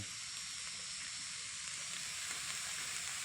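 A field rat stir-fry with pickled bamboo shoots sizzles steadily in a pan over lowered heat, giving a continuous, even hiss close by with no talking.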